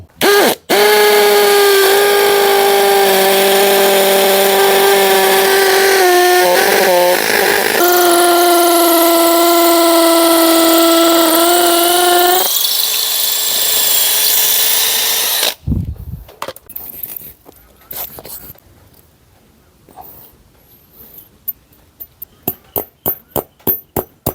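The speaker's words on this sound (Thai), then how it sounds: "ต้องบอกว่าเป็นสว่านกระแทกไร้สายที่หลากประโยชน์นะครับ" A loud Makita DHP490 cordless hammer drill with an 8 mm bit grinds steadily into concrete for about fifteen seconds, then stops; a series of short, sharp clicks and taps follows.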